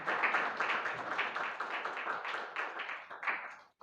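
Congregation at a Friday fasting prayer meeting clapping hands together, a dense, steady patter of many palms at moderate distance that runs continuously before cutting off abruptly near the end.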